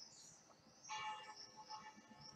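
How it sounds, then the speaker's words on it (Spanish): Faint church bells ring in the distance, a soft metallic chime swelling briefly and lingering over quiet background noise. "las campanas de la iglesia que suenan otra vez"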